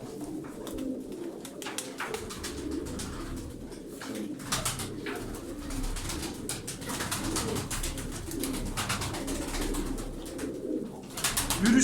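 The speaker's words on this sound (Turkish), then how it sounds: "Çekilişte 20 tane kuş var." Tumbler pigeons coo in a steady, layered chorus, several birds close by, murmuring continuously without pause and with no talk over them.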